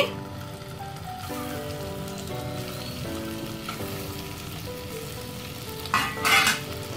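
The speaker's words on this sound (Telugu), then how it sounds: "ఈ విధంగా వేసుకొని మనం లో ఫ్లేమ్లోనే పెట్టేసుకొని ఎగ్స్ని ఒక రెండు నిమిషాల పాటు మనం ఈ విధంగా రొటేట్ చేసుకుంటూ ఫ్రై చేసుకోవాలి" Scored boiled eggs frying in hot oil over low flame, turned in the pan, a continuous rain-like sizzle with a brief louder burst of spatter near the end, no speech.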